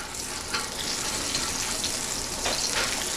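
Ginger sizzling in hot oil in a home kitchen wok or pan, a steady loud frying hiss with a few brief crackling surges, no talking.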